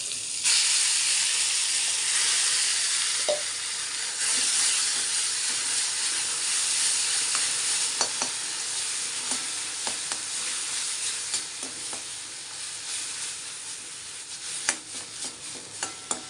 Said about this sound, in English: I will add the onion paste in this.